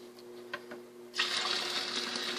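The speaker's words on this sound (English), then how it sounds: "Fred's going to dump this into one of the 5-gallon pails" Homemade laundry detergent mixture splashes into a 5-gallon pail holding some water: a faint hum and a few small knocks first, then a sudden gushing pour that continues strongly to the end.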